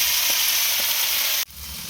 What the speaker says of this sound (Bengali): আদা বাটা জিরা ধনে টমেটো দিলাম তাগুলো এবার কষে নেব